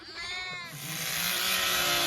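Sheep bleat loudly at a busy shearing session on a farm, one long wavering bleat followed by a sustained, harsher call over steady background noise.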